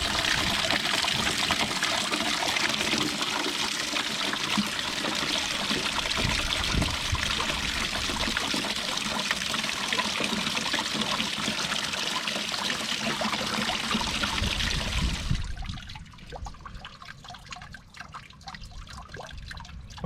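Water drains steadily out of an RV's Atwood water heater tank, a loud continuous gushing trickle that abruptly drops off near the end to quieter dribbles and drips as the tank nearly empties.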